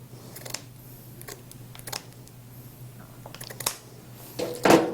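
Scissors snip through material during a glass vase decor craft project, making a few soft close cuts over a low steady hum, with a louder crisp snip near the end.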